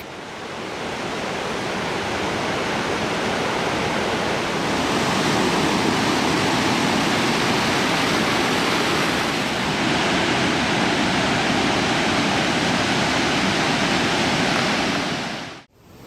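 Watson River floodwater fed by Russell Glacier melt surging in a steady, loud, broadband roar of rushing water that holds constant, close and alone, before cutting off abruptly at the end.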